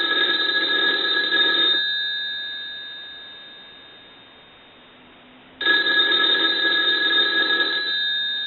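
A payphone bell rings loudly in a long burst, falls silent for a few seconds, then rings again.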